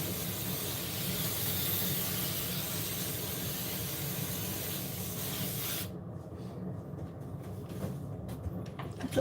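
A long, steady hiss from a can of hairspray, held upside down, sprays continuously for several seconds, close by, then cuts off leaving quieter rustling.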